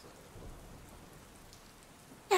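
A rainstorm with thunder makes a steady soft hiss of rain with a low rumble underneath, moderately quiet and continuous. A brief brighter burst comes at the very end, and no one speaks.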